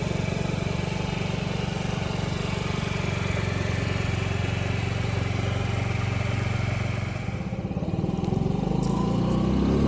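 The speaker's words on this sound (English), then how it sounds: "We're out here on the Honda Ruckus" A 2024 Honda Ruckus scooter's small engine drones steadily and loudly while riding, with a rough low rumble and wind buffeting throughout, easing slightly near the end before picking back up.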